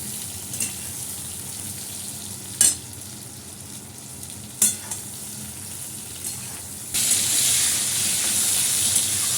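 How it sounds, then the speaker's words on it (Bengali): Eggplant fries in oil with a soft, steady sizzle and a few sharp utensil clicks, and the hiss grows noticeably louder and brighter toward the end. "এই যে বেগুনটা একটু ভালো করে ভেজে নিচ্ছি।"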